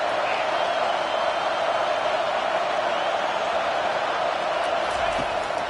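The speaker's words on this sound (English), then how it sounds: "Decibels rising as the crowd gets behind this defense on 3rd down" A stadium crowd roars steadily and loudly through a third-down play at an LSU vs South Carolina football game, a dense, unbroken wall of noise that holds its level for several seconds.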